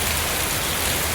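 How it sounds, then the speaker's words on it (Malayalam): Steady rain pours during a downpour with the power out, a dense, even hiss of drops hitting surfaces close by, with no voices. "ഞാനിവിടെ നിന്നിട്ട് ഇങ്ങനെ ഈ മഴയും കണ്ടിങ്ങനെ ഇരിക്കുകയാണ്."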